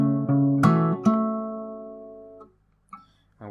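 Fingerstyle acoustic guitar plays one bar of an arrangement of a song from Naruto Shippuden, with a few plucked notes and a chord left ringing out to a fade, then two soft later plucks.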